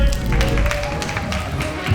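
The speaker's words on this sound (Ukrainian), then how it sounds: "ваші оплески" Audience applause fills a conference hall at a stage event in Kyiv, a steady broad wash of clapping throughout, with a voice speaking over it.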